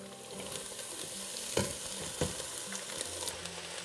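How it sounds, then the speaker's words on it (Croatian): Cabbage stirred into softened, sautéed onion in a frying pan, giving a steady sizzle with two sharper scraping stir strokes partway through, close up, with no talking. "Odmah ćemo na ovaj dinstani luk, vidite kako to brzo ide, dodavati kupus."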